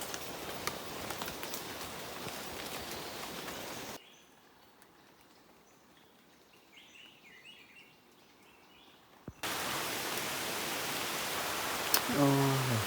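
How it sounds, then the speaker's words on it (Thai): Rain pours in a forest as a dense, loud hiss, cut off by a quiet stretch with faint bird calls before the downpour returns. "โอ้ยฝนตกนี่"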